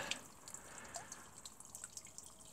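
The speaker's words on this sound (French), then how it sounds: "Une petite fontaine. J'ai mis une pompe solaire." A small garden pond fountain driven by a solar pump trickles softly outdoors, with faint, steady water flow and light, irregular drips throughout.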